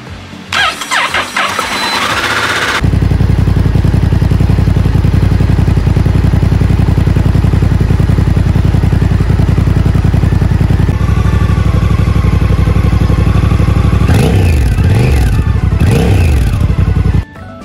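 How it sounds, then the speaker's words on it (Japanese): A Honda Hawk 11 two-cylinder motorcycle engine cranks with a short starter whir, then catches and settles into a loud, steady close idle, blipped with a few revs near the end before cutting off. "それではエンジンをかけてみましょう。"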